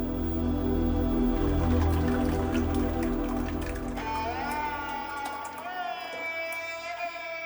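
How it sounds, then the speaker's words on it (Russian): Diluted suzma is poured from a bowl into a pot for dovga, a wet pouring and dripping sound with rising filling tones as the liquid settles, close and moderately quiet. "Включаем огонь под кастрюлей и переливаем разведенную сюзьму."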